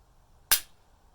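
A single crisp, close snap as the hinge trigger is pulled on a Savage 12FV rifle fitted in an Oryx chassis, short and isolated against near silence.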